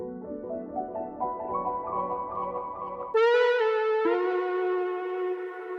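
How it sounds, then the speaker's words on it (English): Soft melodic accents and textures from a sample pack play on their own: a gentle run of tones, then sustained bright bell-like notes with echo. The passage is quiet and brief. "it's just a few little melodic accents and textures."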